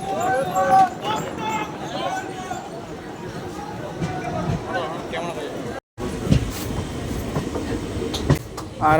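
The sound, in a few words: passenger train approaching New Cooch Behar station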